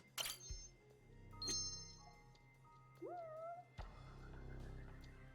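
A cat meows faintly overhead in a quiet room, with a short rising-and-falling call among scattered soft thumps and knocks from its movement.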